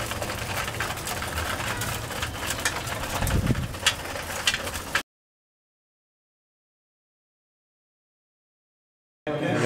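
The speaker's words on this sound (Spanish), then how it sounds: "Pero ahí están las palomas." Racing pigeons at a club competition coo and flutter close by amid mechanical rattling, filling the first five seconds before the sound cuts to silence, then returns briefly at the end.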